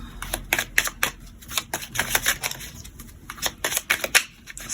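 Tarot cards being gathered up and put away make a continuous run of rapid papery shuffles, snaps and riffles at close range, with no talking over them.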